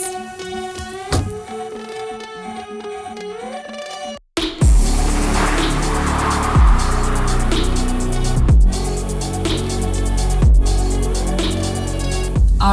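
A Mercedes-AMG GT driving a slalom maneuver: after a short quieter stretch, a loud sustained engine roar with rising and falling revs and repeated gear changes as the car weaves.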